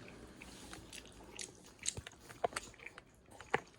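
Someone eats jajangmyeon noodles on moving day into a newlywed home in Korea, with soft, close chewing and a few sharper bites scattered irregularly over a quiet background.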